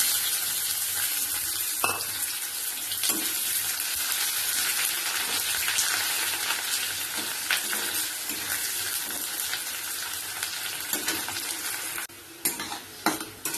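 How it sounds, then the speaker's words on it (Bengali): Chopped onions frying in a pan, a steady loud sizzle with occasional stirring scrapes and clinks, no voices. "পেঁয়াজ ভাজা হয়ে গেছে"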